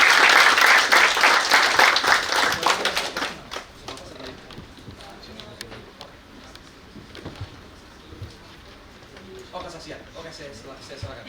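Congregation applause at a Christmas service held by football supporters, loud and dense for about three seconds before thinning into scattered claps under a speaking voice.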